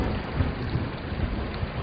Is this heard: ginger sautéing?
no